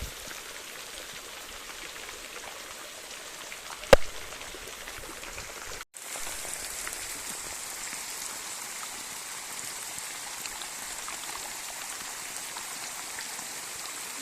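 Steady rain falls in a soft, even hiss, with a single sharp tap and a brief cut early on, then continues unbroken and fairly faint to the end.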